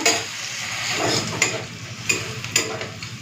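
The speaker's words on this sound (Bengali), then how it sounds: "এই যে পেঁয়াজ শুকনো লঙ্কা বাটা আদা রসুন বাটা পুরো ভালো করে ভেজে নিয়েছি" Onion with dried red chilli paste and ginger-garlic paste fries for a chicken curry, a fairly loud sizzle marked by several rhythmic stirring scrapes and clinks of a utensil against the pan, no speech.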